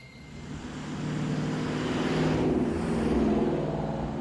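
A supercharged 2018 Ford Mustang GT (S550) V8 with a Vortech Heritage supercharger drones steadily as the car drives, a loud sustained engine roar that swells slightly and holds, with no talking.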